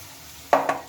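Ground spice paste being stirred into mutton in a wok: a soft background sizzle, then two quick scraping stirs close by.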